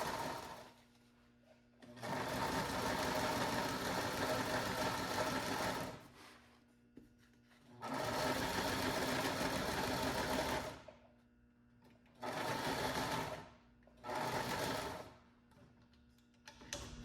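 Sewing machine stitching thick cockpit enclosure window material, run in four separate bursts of rapid, steady stitching with short quiet pauses between, loud and close with no talking.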